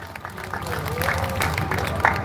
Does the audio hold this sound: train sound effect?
no